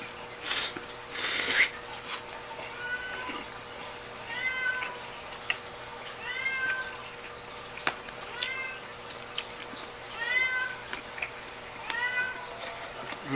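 A house cat meows repeatedly and close to the mic, several distinct drawn-out calls spread across the stretch, with a brief louder burst of noise near the start and a faint hum underneath.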